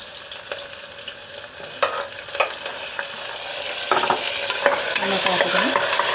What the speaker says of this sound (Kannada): ಈರುಳ್ಳಿ ಸ್ವಲ್ಪ ಬಣ್ಣ ಚೇಂಜ್ ಆಗೋವರೆಗೂ ಈ ಥರ ಫ್ರೈ ಮಾಡಿ